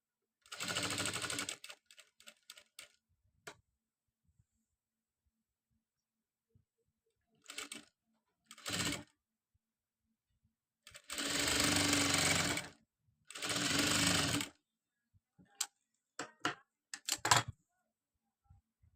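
A sewing machine stitches a long designer gown in short, separate bursts, some quick and some running a second or more, with near silence between runs.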